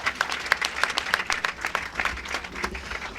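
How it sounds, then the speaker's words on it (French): Audience applause at a high school ceremony, moderately distant clapping with distinct individual claps popping out of the crowd, fairly quiet and continuous throughout. "Applaudissements pour votre grande dame Cissé"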